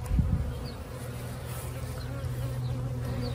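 A honeybee swarm buzzes steadily and close by, a dense, continuous drone that holds at an even level throughout with no talk over it.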